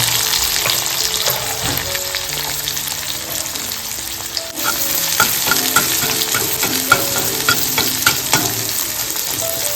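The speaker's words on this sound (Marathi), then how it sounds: "इकडे कांदा लसूण मस्त परतवून घेतलंय" Onion and garlic sizzle steadily in hot oil, with occasional scraping and stirring sounds from a utensil in the pan.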